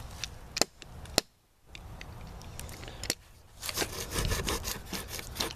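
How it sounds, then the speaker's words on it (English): Rough, rhythmic rasping of a saw cutting through wood in the woods, with sharp knocks and scraping strokes that grow busier toward the end. "Let the sawing begin."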